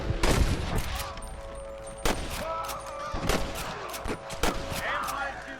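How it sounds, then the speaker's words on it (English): Gunfire in Red Dead Redemption cracks in a rapid series of sharp shots, some overlapping, amid scattered background sounds and faint voices. "I can hear more gunshots."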